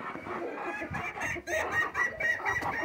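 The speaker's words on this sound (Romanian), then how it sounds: "Am zis că mai cotcodăcesc." Hens clucking steadily in a farmyard barn during morning animal chores, several birds overlapping in a busy, close cackle with no talk over them.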